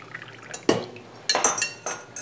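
Elderberry juice is poured from a steam juicer into a quart jar: short liquid splashes and pours with clinks of metal and glass, close and fairly quiet, no talk.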